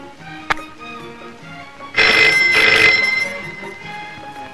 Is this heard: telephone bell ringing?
yes